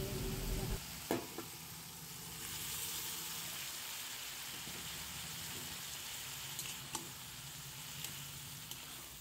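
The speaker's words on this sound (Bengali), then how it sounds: "ভালো করে নেড়ে চেড়ে নিয়ে সবজির সাথে ডালটা ভালোভাবে মিশিয়ে নিতে হবে।" Pre-boiled chana dal being stirred into vegetables and spice masala in a pan for a Bengali dal, giving a faint, steady sizzle with a few soft scrapes and taps from the spoon.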